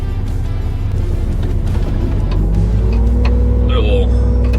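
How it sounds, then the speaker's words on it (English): A skid steer loader clears dirt in a back yard, its diesel engine droning steadily and close, with a low rumble that rises slightly partway through. "I'm just trying to get the dirt out of the way as best I can with the skid steer right now"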